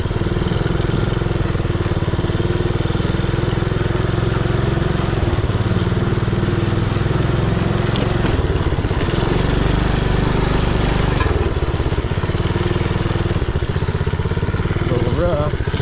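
A 110cc ATV engine fitted in a vintage mini-bike runs continuously, a loud, slightly rough mid-pitched putter that stays close and steady throughout, with small shifts in tone as it is ridden.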